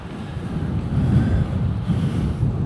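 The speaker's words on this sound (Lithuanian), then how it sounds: "O dar vėjas pradėjo pūsti iš tos pusės, audros pusės." Wind from the storm side roars on a microphone outdoors, a low, steady rumbling buffet with slight surges, close and continuous with no voices.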